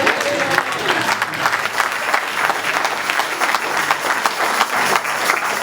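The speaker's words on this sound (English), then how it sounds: "Clap for Jesus." A church congregation clapping for Jesus in a thanksgiving service, loud, dense applause close by with some crowd voices mixed in, holding steady throughout.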